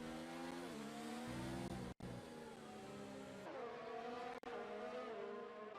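Formula 1 race cars overtaking in F1 2019 at the Abu Dhabi GP, high-pitched engines screaming near and loud with rising and falling pitch as gears shift, two brief cuts to silence, no voices.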